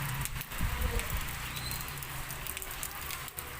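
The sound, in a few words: heavy rain falling in Bangalore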